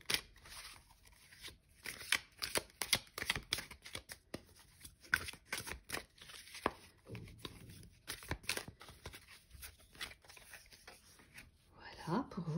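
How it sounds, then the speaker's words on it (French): Small Lenormand cards are shuffled over and over, giving rapid close riffling and flicking bursts in an irregular rhythm, with someone speaking French quietly throughout. "J'ai en ce moment un peu de mal à brasser vu que j'ai utilisé des petites cartes Le Normand"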